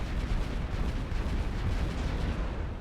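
A plasma cannon fires in the strategy game Final Theory, a dense, booming roar with heavy rumbling low end that holds steady and loud throughout without a break.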